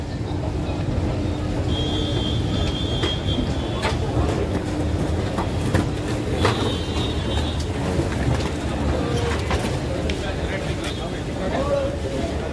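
Train at a railway station, rumbling and clattering steadily with occasional high squeals and metallic clanks, crowd noise and voices mixed through the scene.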